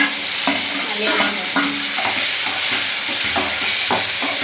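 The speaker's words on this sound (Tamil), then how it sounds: "வெங்காயம் வதங்கிட்டு தக்காளி 2 தக்காளி போட்டு வதக்கிடலாம்." Onions and tomatoes sautéing for moong dal sambar give a loud, steady sizzle, with repeated scraping strokes from the stirring spoon at an even pace.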